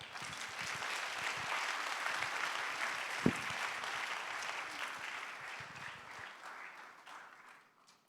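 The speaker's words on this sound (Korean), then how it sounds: "우리 교수님 나오실 때 우리 큰 박수로 환영하도록 하겠습니다." A church congregation gives warm applause welcoming a guest professor to the pulpit, a sustained patter of many hands at moderate volume that gradually fades out.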